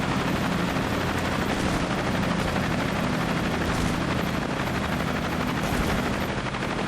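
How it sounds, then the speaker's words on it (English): Continuous loud helicopter rotor noise from the video game Cepheus Protocol fills the scene, a dense steady roar with faint rattling bursts mixed in. "we're gonna land these helicopters"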